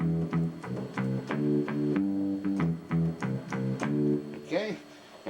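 A keyboard bass patch plays a bouncy line of short repeated notes in a steady rhythm, close and moderately loud, with a brief sliding tone near the end and no voice over it.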